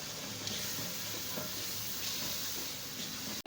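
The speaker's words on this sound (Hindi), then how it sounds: "ये अच्छे से भुनाई करेंगे, 3 से 4 मिनट इनकी भुनाई करनी है।" Whole spices and masala roast in a pan over a medium flame, giving a steady, soft sizzle with occasional faint scrapes of stirring and no voices.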